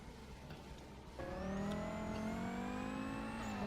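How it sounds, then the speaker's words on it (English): A GT racing car engine in the Forza Motorsport video game kicks in after a second, holding a steady high whine with rising tones, close and continuous. "Is that my car I'm hearing? It is."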